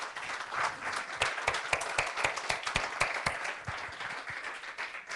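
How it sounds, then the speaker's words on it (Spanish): A church congregation applauds, steady clapping that swells and then gradually thins out toward the end. "¿Cuántos le damos un aplauso al Señor?"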